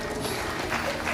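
Applause from an audience at a devotional Shri Krishna event in a staff club hall, a brief steady wash of clapping with no voices over it.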